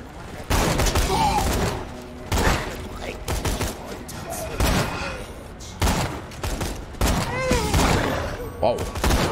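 Sniper rifle fire in Borderlands 2: loud, sharp shots at irregular intervals of about two seconds, each with a booming tail, mixed with game effects and occasional speech.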